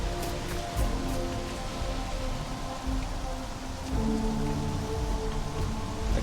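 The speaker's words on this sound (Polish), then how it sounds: "A deszcz zaczął padać." Rain falls steadily in the Starfield video game, a continuous hiss of drops close by under low, layered ambient tones with no talking.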